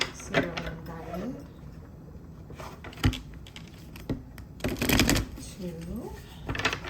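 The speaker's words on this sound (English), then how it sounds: "We'll do at least 3 shuffles, maybe more." Tarot cards are shuffled by hand in short crisp riffling bursts separated by pauses, close to the listener, with a voice speaking between the shuffles.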